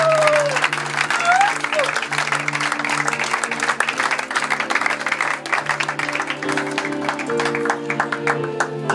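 A church congregation applauds and cheers in praise, with dense continuous clapping, voices and a sustained musical background throughout.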